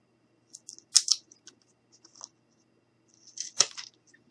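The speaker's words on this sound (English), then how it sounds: "take that jumbo popsicle stick, and we're just going to cut the ends off like that" Cutting the ends off a jumbo wooden popsicle stick, crisp snipping crunches in two clusters of close, sharp clicks and snaps in a quiet room.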